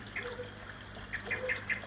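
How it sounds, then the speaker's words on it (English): Ducks at a koi pond quack in a quick series of faint honks and calls, with soft outdoor ambience and no talking. "The birds here again."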